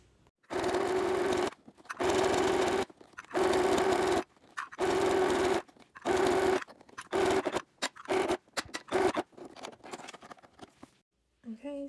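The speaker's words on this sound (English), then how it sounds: "So let's just stitch this up really quick." A small sewing machine with a foot pedal stitches a felt ruler cover, a close, buzzing mechanical whir running in several bursts separated by pauses, then shorter stuttering runs and quieter handling at the end.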